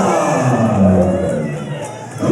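A large crowd at a wrestling fight event roars and cheers continuously, a dense loud wall of shouting voices with chant-like rising tones, filling the arena without pause.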